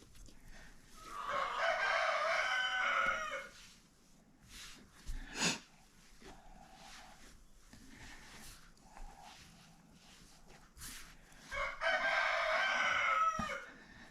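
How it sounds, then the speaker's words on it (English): Backyard chickens roaming a yard crow and cluck through an open back door, two loud bursts of calling at the start and end with softer clucks and thumps between, heard from indoors. "My chickens are roaming the yard."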